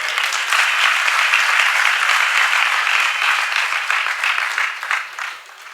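Loud, dense audience applause at a Jain religious discourse during Daslakshan Parva, a large crowd clapping steadily and then tapering off near the end.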